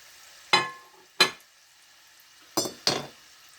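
Homemade crunchy snacks fry in hot oil in a pan on the stove, with four sharp sizzling bursts that each fade quickly into quiet.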